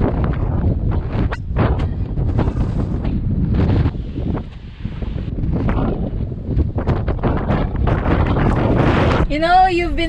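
Gale-force wind outdoors at Lake Tekapo, New Zealand, roars and buffets the microphone in loud, uneven gusts, with a person talking through the rumble and a brief whistling tone near the end.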